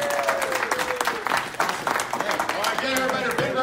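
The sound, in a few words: audience applause at a gamers convention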